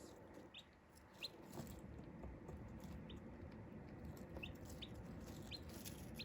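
Nine fast-growing baby chicks peep softly in an indoor brooder, scattered high chirps over a low steady background hum, faint and intermittent.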